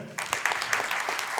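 Applause for panel speakers at an IEEE event fills the room, dense, continuous clapping starting abruptly and holding steady throughout, with no talk over it.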